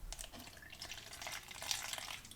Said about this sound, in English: I'll see if I can get the bottle right. I'll pour a bit out.